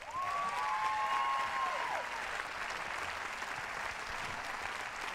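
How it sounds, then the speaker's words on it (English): A tennis crowd applauds a player after a grass-court match, with steady, sustained clapping throughout and a brief whistle-like tone near the start. "Big round of applause. M.Cilic."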